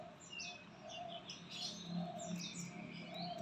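Magpie robin chirping in short, repeated calls over a steady background hiss, moderately close, with no talk.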